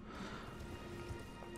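Horse hooves clip-clopping at a steady gallop in Elden Ring, a continuous rhythmic patter at even volume under dense game ambience, with no talk over it.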